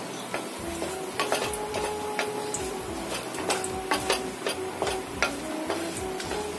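Dry chili, bay leaf, split cardamom, cinnamon and cloves fry in oil in a pan with a soft, steady sizzle, punctuated by sharp clicks and taps of stirring against the pan.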